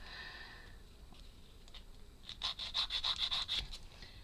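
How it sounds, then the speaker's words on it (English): Rhythmic scraping strokes of sanding on a miniature wooden model chair, about eight quick back-and-forth rubs close by after a quieter stretch of faint handling noise. "You'd think it would with all this sanding going on."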